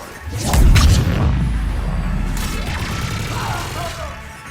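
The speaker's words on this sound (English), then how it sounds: "Just following the gunfire." Battle sounds from the Mass Effect 3 video game: a heavy boom opens into sustained rumbling combat noise with bursts of gunfire and mechanical clatter, loud and continuous throughout.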